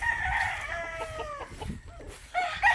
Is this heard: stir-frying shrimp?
no